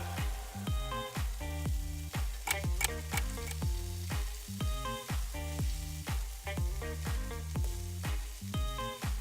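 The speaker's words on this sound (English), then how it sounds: "when you're cooking the sausages, make sure that you cook them right through" Homemade sausages frying in a pan, a steady close sizzle broken by repeated rhythmic knocks and stirring sounds as they are turned, with no talk.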